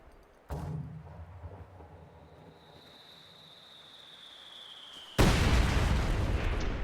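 Heavy mortar rounds land in a World War II strategy game, one sharp blast early on, then a rising whistle and a second, louder explosion with a long rumbling tail.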